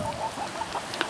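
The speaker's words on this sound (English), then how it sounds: "our chickens are happy picking through all the weeds" Chickens cluck softly and repeatedly as they forage through weeds in a garden, a close, busy stream of short clucks with no talking.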